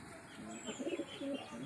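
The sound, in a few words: racing pigeon cooing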